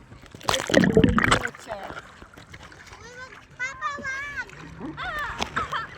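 Splashing water as a family swims in the Atlantic Ocean, with bursts of sloshing and splatter up close while children shout and squeal and other voices talk throughout.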